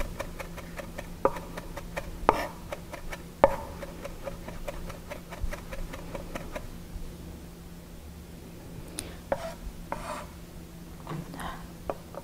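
A knife finely minces green onion on a cutting board, giving quick, light wooden taps in short irregular bursts with a few sharper knocks, close by and fairly quiet.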